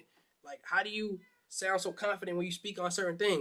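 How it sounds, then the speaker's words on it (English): A house cat meows a few times in the background at the start, faint and brief, before someone talks steadily over the rest. "Y'all hear that? That's my cat in the background."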